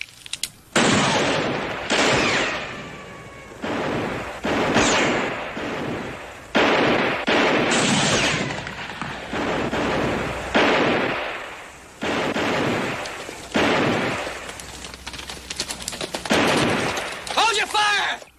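Gunfire in a western TV series, with repeated loud shots and volleys echoing in quick succession throughout, mixed with shouting voices.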